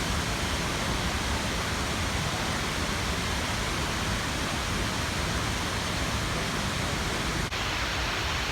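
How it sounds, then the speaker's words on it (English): Outdoor water fountains along San Antonio's River Walk in Texas send out a dense, even hiss of splashing water that holds steady and fairly loud throughout, with no voices. "some really pretty fountains"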